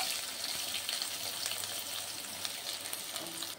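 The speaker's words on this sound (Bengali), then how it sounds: "পেঁয়াজ কুচিগুলো আমি লাল লাল করে কিন্তু ভেজে নেব" Chopped onion frying in oil with spices, a steady close sizzle filling the whole stretch with faint stirring underneath and no voices.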